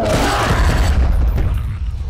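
Gunfire in the shooter game SNIPZ, a loud booming burst of shots and explosions packed into about two seconds, dense and continuous with a heavy low thump.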